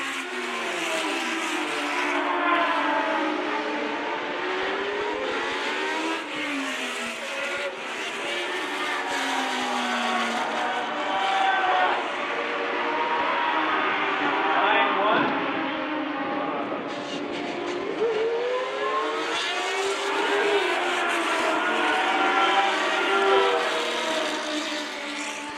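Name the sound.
Formula One race cars racing on track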